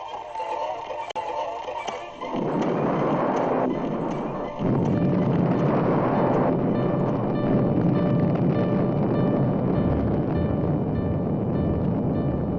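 A deafening blast as a dam wall is blown apart, a sudden loud roar after a quieter start that swells into a sustained, rumbling broadband surge continuing to the end.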